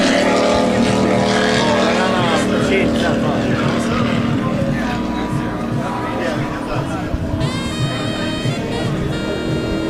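Racing powerboats roaring at a TTPBA regatta at Casters Cove, loud sustained engine drone with shifting pitch as boats pass nearby, continuous throughout with a commentator talking over it.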